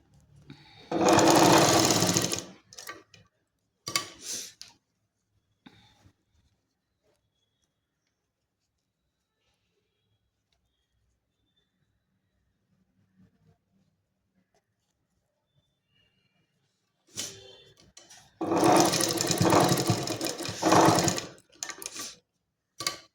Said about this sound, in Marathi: थोड्या थोड्या अंतरावर व्यवस्थित धरून आपण ती टीप मारून घ्यायची आहे.